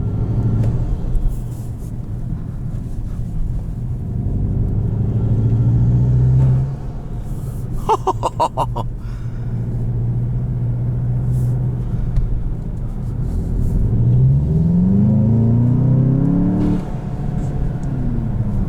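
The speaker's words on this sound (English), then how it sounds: "I don't remember the turbo being this loud." A 2021 Volkswagen Jetta GLI with its turbocharged engine and DSG gearbox accelerating on the Autobahn, a steady low rumble and drone from inside the cabin with rising engine pitch and brief whooshing bursts, no talk over it.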